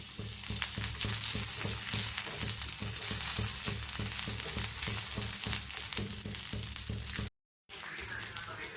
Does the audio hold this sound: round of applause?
no